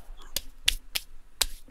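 Four sharp, separate hand claps sound close to the microphone in an irregular rhythm, with quiet gaps between them and faint background noise.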